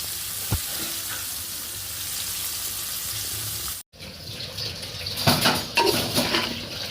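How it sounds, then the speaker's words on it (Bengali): Fried rice with shrimp and egg sizzling in a pan, a loud, steady hiss of frying that breaks off briefly, then returns with bursts of stirring and clatter. "ফ্রাইড রাইস রান্না হচ্ছে চিংড়ি মাছ দিয়ে, ডিম দিয়ে"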